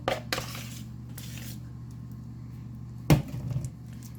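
A utensil scrapes and clinks against a dish while cheese sauce is spread over a vegetable pie, with two clear sharp knocks among softer intermittent scraping in a quiet kitchen.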